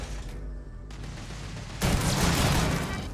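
Shotgun fired in a video game, a sudden loud blast about halfway through that leaves a dense, roaring wash of noise sustained to the end over a low background hum.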